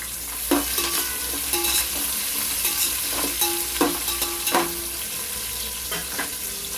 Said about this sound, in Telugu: ఉల్లిపాయలు, పచ్చిమిరపకాయలు వేసుకుందాం. ఒకసారి కలుపుకుందాం.